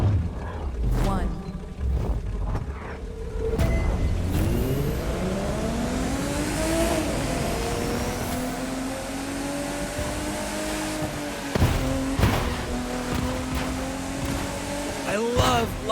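A classic touring race car engine in The Crew 2 game revs hard and climbs through the gears, with gearshift drops and renewed acceleration as a voice speaks over the roaring engine.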